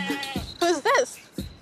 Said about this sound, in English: Pippa is actually Clara's goat.